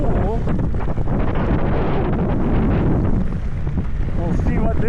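Strong wind blows on a mountain bike trail on Ward Mountain near Ely, Nevada. It buffets the microphone with loud, continuous roaring gusts for the whole stretch, with a faint voice partly buried underneath.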